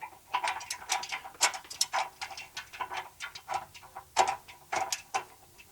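A hand crank turns the gearing of a Koolspot sun shade, giving a series of close, light ratcheting clicks and ticks in uneven bursts, fairly quiet with no talk.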